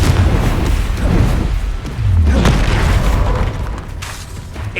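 A Confringo blasting spell explodes in the Hogwarts Legacy video game, heavy booming blasts in close succession amid chaotic fighting noise, loud and near.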